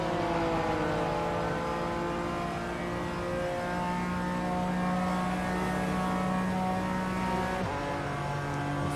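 BMW M race car in the iRacing sim, engine held loud and steady at high revs with clear pitch drops at gear shifts around the middle and near the end, continuous and close with no talk.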